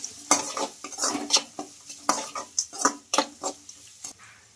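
Spices being stirred in a pan with a utensil, about a dozen sharp scraping and clinking strokes in an uneven rhythm, close and clear with faint sizzling beneath.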